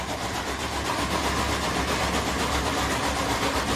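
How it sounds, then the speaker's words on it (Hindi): A 1990 HMT 3511 tractor with a three-cylinder, 35 HP diesel engine idles steadily, a continuous close rumble with no breaks or voices. "यह ट्रैक्टर HMT 3511 हमने ख़रीदा है।"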